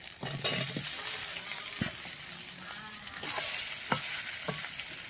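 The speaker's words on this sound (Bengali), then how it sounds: "মশলাটায় তেল ছেড়ে এসছে এই যে সুন্দর এবার ভেজে রাখা আলুগুলো দিয়ে দেবো" Fried potatoes being stirred into sizzling spiced oil in a pan, with a steady close crackle of frying broken by repeated scraping stirs.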